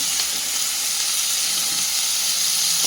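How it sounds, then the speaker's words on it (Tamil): Onions sauté in a pan of oil for mutton fry, giving a loud, steady sizzle that hisses without pause, with no voices. "வெங்காயம் நல்லா வதங்கிடுச்சு."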